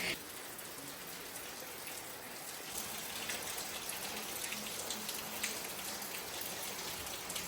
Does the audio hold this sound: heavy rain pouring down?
yes